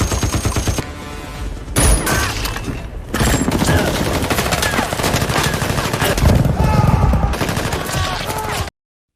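Dense, loud gunfire in a film gunfight scene: continuous rapid automatic bursts and shots layered together with brief breaks, forceful and close throughout.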